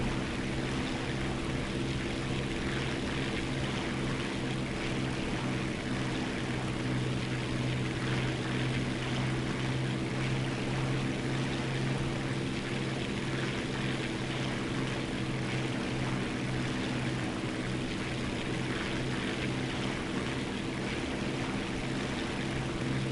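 An aircraft engine in War Thunder drones steadily and without a break, a dense propeller-like hum with layered tones. It holds level and fairly loud throughout, and no one speaks.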